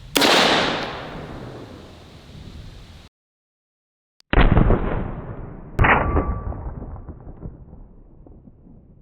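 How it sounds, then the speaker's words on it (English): Live ammunition that sat submerged for two months is fired from a semi-automatic gun outdoors, giving two loud, sharp gunshots a few seconds apart, each trailing a long echo, after an earlier blast and a brief silence. "Well, it did fire and ejected the shell casing, but it did not lock the bolt back"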